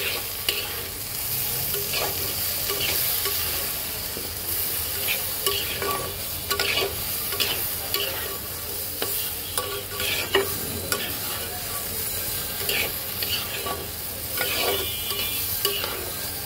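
Spices including turmeric and coriander powder being mixed in a pan with stinging catfish and gourd shoots, a continuous sizzle punctuated by repeated scraping stirs of a spatula, fairly close and without talk.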